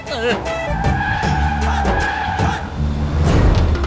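Car tires squeal in a sharp skid over engine rumble, with a voice speaking partway through.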